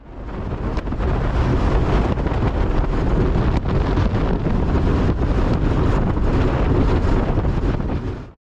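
The Gold Coaster roller coaster at Dreamworld runs in a loud, continuous, wind-buffeted roar from start to finish, steady and close, with no voices.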